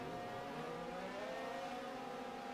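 Race car engines idle and rumble steadily while the cars line up on the starting grid at Wimbledon, a continuous low drone with no distinct pass-bys and no talking.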